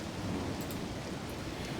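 Steady rain with a low rumble of thunder beneath it, a continuous stormy wash of ambience from the detective game Detective Butler: Maiden Voyage Murder, set on dark, rainy London streets.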